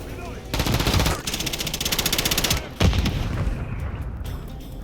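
Video game gunfire plays as rapid automatic bursts, loud and close, with a heavier boom in between and a faint voice underneath.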